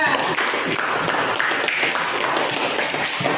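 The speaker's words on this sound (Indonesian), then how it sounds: "Tepuk tangan dulu untuk kelompok 3." A classroom gives group 3 a round of applause, dense clapping from many hands at a steady loud level for a few seconds.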